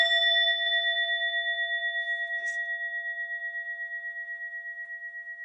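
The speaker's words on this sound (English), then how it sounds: "And then so ring the bell." A single bell strikes once and its clear, pure tone rings on, slowly fading with a gentle pulsing shimmer.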